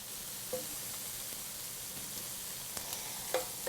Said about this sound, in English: So the shrimp are still cooking a little bit,